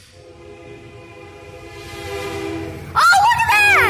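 A Canadian Pacific freight train rumbles past in Collins, Mississippi, its sustained multi-tone horn growing steadily louder, then a sharp rise near the end where excited high-pitched voices break in over the horn.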